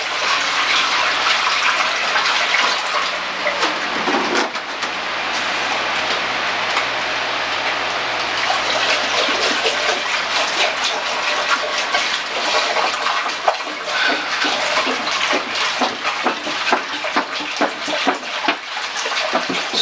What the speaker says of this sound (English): we're going to add distilled water again to bring up our volume.